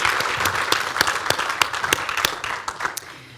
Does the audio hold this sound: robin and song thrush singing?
no